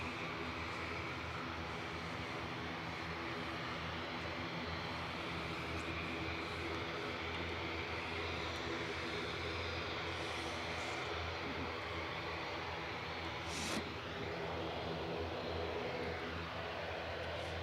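An Emerald Airlines ATR 72 turboprop operating for Aer Lingus Regional at Manchester Airport gives a steady, fairly faint engine and propeller hum with a low droning tone, continuous and unaccompanied, with a brief sharp noise near the end.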